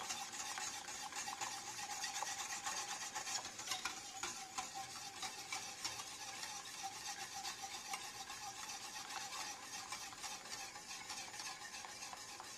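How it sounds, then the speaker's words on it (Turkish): Cake cream is stirred in a pot until it thickens, a steady scraping and sizzling texture running continuously and evenly throughout, close and moderately loud with no voices. "koyulaşıncaya kadar karıştırıyoruz"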